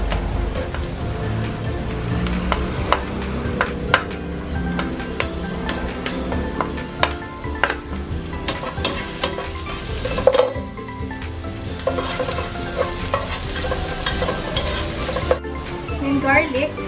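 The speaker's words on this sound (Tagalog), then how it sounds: "Start na tayo mag-gisa. Start with onions." Onions sizzle in two tablespoons of hot cooking oil in a pot, a steady crackling fry broken by repeated scrapes and clinks of a spatula stirring against the metal.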